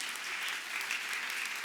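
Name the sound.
applause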